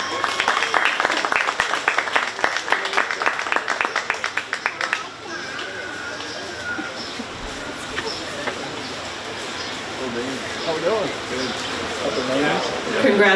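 Applause rings out at a 4-H cattle show at a county fair as the crowd claps for the reserve junior showman, a steady patter of claps that fades after a few seconds, with an announcer talking over it and afterward.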